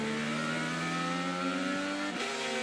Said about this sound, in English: That's no good for the motor either when it over revs like that